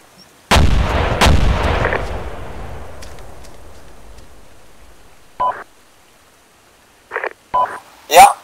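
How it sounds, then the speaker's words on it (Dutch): Explosives detonate in the Arma military game: two loud, booming blasts close together, followed by a long rumbling decay, then a few brief sharp sounds later on. "Weinig explosieven, meer dan nodig."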